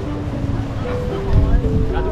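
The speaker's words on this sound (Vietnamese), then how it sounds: "Gió giờ nó to hơn rồi" Strong seaside wind buffets the microphone with heavy low roaring gusts that swell louder toward the end, with surf noise underneath during a stormy kite-flying outing by the sea.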